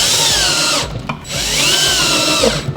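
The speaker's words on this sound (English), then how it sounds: "I'm going to screw it to the bottom shelf first" Power drill driving a screw through a metal L bracket into a cabinet shelf, two loud, close whirring runs with a short pause between them.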